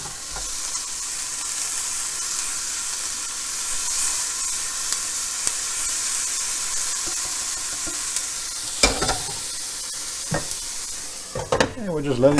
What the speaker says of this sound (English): And we'll just let it cook. Keep stirring every now and then till everything's done.